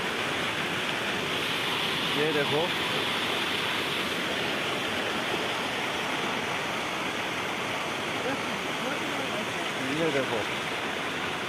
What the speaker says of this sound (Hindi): इतना पानी गांव में जा रहा है